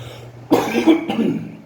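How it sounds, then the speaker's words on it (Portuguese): A single harsh cough from a preacher during a sermon, close and fairly loud, breaking into a rough, throaty burst that trails off after about a second. "Desculpa, essa tosse chata,"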